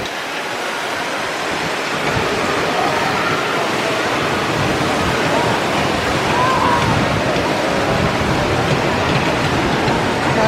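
A water fountain in a large upscale shopping centre on the Gold Coast, Queensland, gives a steady broadband rush of splashing water that holds at even loudness throughout, with faint crowd ambience around it.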